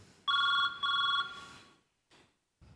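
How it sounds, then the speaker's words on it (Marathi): A telephone rings in a Marathi comedy sketch set in a hospital, two loud electronic ring bursts close by, then fading with short noises after. "सिस्टर तुमचा फोन वाजतोय हो"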